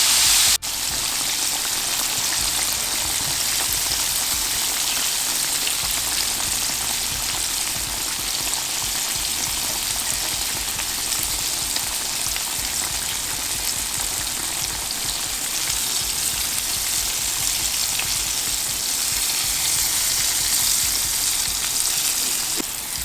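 Turkey chops fry in a pan with a loud, steady, unbroken sizzle and spatter that fills the whole stretch, with no talking.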